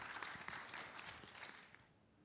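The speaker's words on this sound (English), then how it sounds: "Give him a round of applause." An audience clapping after a candidate speaks at a student government election debate, a quiet ragged applause that thins out and fades over two seconds.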